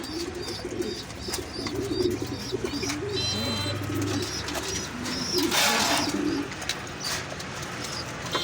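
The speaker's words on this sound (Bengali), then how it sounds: "এটা হলো আমাদের সদ্য ডিপ ভাইয়ের ব্লাড লাইনের কবুতর" Pigeons in a loft coo softly and continuously, several birds overlapping in low throaty rolls, with scattered chirps and a brief burst of wing flutter or rustling midway, close and steady throughout.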